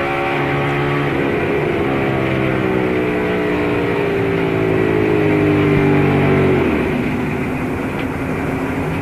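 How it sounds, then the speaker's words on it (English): A NASCAR engine in the 2002 Subway 400 drones loudly and steadily from the in-car view, its pitch sagging and wavering as the engine goes sour, with no voices over it. "You'll hear that engine going sour and the radio."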